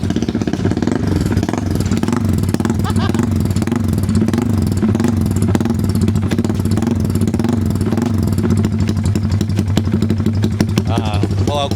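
A Yamaha Y15ZR motorcycle engine fitted with a 70mm kit runs on a Dynojet dyno, giving a loud, steady, close droning hum with rapid rhythmic clatter throughout and a brief rise in pitch near the end.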